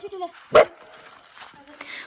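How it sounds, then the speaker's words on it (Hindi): A dog on a hillside in the mountains gives a single sharp bark at small children running nearby, with faint whimpers and outdoor voices around it. "और यहाँ पे ये सीटू भौंक रहे हैं अभी उनको देख के।"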